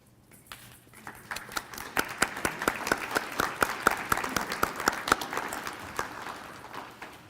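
An audience applauds at a JCC Foundation donor appreciation and scholarship celebration, starting as scattered claps that quickly swell into steady, lively clapping across the room before tapering off.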